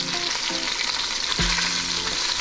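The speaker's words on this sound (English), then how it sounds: "while you fry the fish, your fish heads will break" Steady, close sizzling of fish heads frying in hot oil for a Bengali muri ghonto, a continuous crackle with a brief clatter from a utensil partway through.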